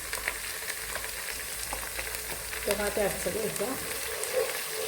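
Masala stirred and frying in a pan for homemade chicken mandi, a steady sizzle with scraping stir strokes throughout, a brief muffled voice or clatter midway.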